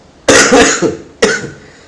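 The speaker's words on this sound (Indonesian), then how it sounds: "pagi-pagi nih bikin batuk" Coughing from a person during a Java programming lesson: two sharp, loud coughs, a longer burst with a quick follow-up and then a single cough about a second later, with no talk.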